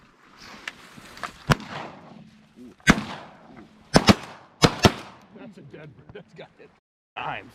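Shotgun blasts from a duck hunt on shallow sheet water crack out loud and close: several sharp single shots, a quick pair and another quick pair a second apart, with people talking and calling between the shots.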